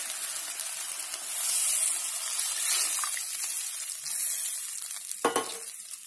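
A paste of ground mustard and green chili fries in a wok for a hilsa curry, giving a continuous bright hissing sizzle, with a brief clatter near the end.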